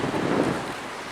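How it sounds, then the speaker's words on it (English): Strong wind on the Icelandic coast buffets the microphone, producing a steady, close rumbling roar with no voices. "The wind is, it's very windy, so you have to be careful."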